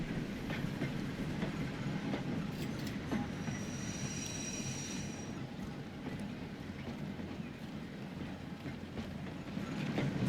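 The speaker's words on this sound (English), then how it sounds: "The steam tram!" A steam tram in Transport Fever 2 rolls along rails with a steady low rumble and faint wheel clatter, a brief high squeal rising partway through before the rolling noise carries on alone.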